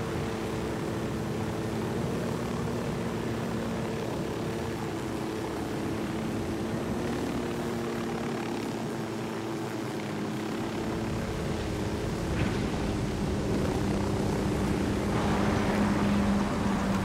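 A drone hums overhead in the video game Ghost Recon Wildlands, a steady droning engine tone with layered harmonics that holds for the whole stretch and swells slightly near the end, with no talk.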